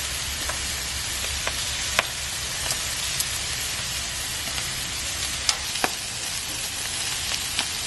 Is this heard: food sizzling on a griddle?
yes